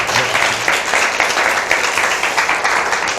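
A studio audience gives warm, steady applause on a Korean talk show, a loud, dense wash of clapping that holds evenly for a few seconds without voices.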